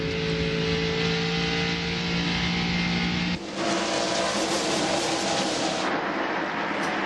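NASCAR stock cars race in the 1999 TranSouth Financial 400. A continuous, loud, full engine roar fills the whole stretch, and its tone shifts sharply partway through as the cars pass.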